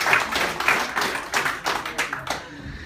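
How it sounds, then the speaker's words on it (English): An audience at a hypnosis show gives a round of applause: close, steady clapping from many hands across the whole stretch, fading toward the end. "how about a nice round of applause for your stars up here"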